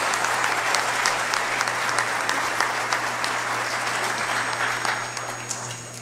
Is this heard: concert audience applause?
yes